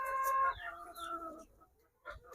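Chickens on a poultry farm clucking and calling, a drawn-out tonal cluck followed by a few shorter ones and a brief later squawk, fairly close with no talk.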